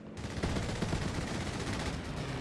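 Sustained automatic machine gun fire from a multiplayer video game match, a dense rapid rattle of shots with thuds underneath, loud and continuous throughout.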